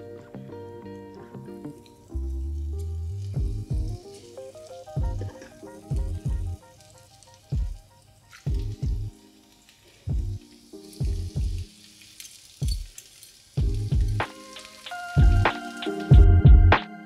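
Zucchini fritters frying in olive oil in a pan, with repeated bursts of sizzling as batter portions are dropped in, loud and close, separated by short quiet gaps over about seventeen seconds.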